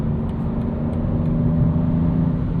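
A 2025 BMW M2 with a 473 hp engine and six-speed manual pulls hard in sixth gear from around 3,000 rpm, a steady rising engine drone with road noise, heard from inside the car.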